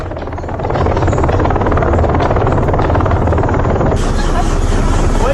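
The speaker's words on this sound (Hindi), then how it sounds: "ये उनका हेलीकॉप्टर है, हेलीकॉप्टर रखते हैं।" A helicopter roars close and loud with a constant rotor chop and engine drone throughout, rising after a brief softer start.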